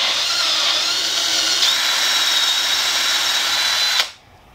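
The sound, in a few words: drill drilling through mount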